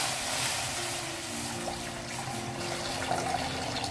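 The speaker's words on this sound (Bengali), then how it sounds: "কড়াই অলরেডি গরম দিয়েছি এবং পানি ঢেলে দিচ্ছি" Water poured into an already hot wok on a stove, a steady gushing splash with a low hiss that runs continuously and close by for the whole stretch.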